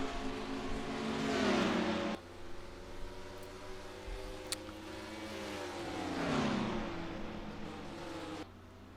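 Race cars lapping Richmond in a NASCAR video game, a continuous engine drone that swells and falls in pitch as cars pass, with a brief cut partway through and no talk.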